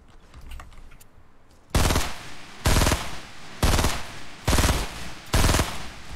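Bursts of automatic gunfire in an FPS video game tournament match, five loud sustained volleys in a steady rhythm after a quieter opening stretch.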